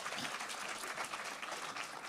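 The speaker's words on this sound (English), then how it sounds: "So yes, please, round of applause." An audience at a talk on South Africa's prosperity applauds, a brief steady patter of clapping heard fairly faint and distant, with no talking.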